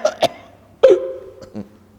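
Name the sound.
imitated cough of a poor person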